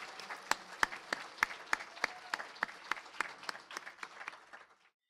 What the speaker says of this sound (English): Could we have one more large round of applause for the nominees?